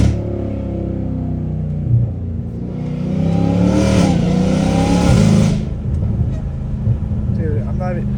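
Catless Dodge Hellcat Redeye with straight-pipe exhaust, a deep loud idle rumble that surges into a roaring rev and drops back, with someone talking near the end.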